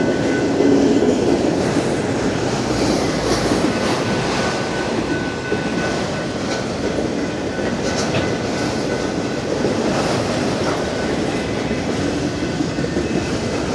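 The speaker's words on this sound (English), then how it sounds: "I happen to get footage of the railroads, freight trains" A BNSF freight train rumbles past steadily and close, with continuous rolling wheel noise and faint clickety-clack throughout, no voices.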